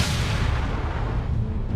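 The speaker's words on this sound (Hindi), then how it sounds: "भारी तोपखाना काफिले के बाकी हिस्से को रोक देता है।" Heavy artillery fire against a stalled military convoy: a continuous loud rumbling roar of booms blending together, dense and sustained throughout with no pauses or voices.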